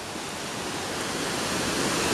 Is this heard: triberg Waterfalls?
yes